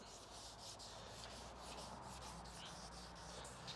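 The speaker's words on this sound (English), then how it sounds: "don't be afraid to go too far with this 600 grit sandpaper" Steady dry rubbing of 600 grit sandpaper across a Chevy Colorado plastic headlight lens, a continuous close scratchy hiss with no talking.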